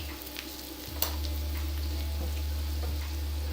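Garlic sizzles and fries in a pan of curry, a steady broadband hiss with a low rumble that swells after a brief stirring clatter, continuing close and even throughout.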